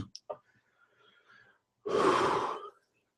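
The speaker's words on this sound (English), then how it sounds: "don't mind the heavy breathing" A single long, heavy breath, loud and close, follows a few faint soft sounds and then stops into silence.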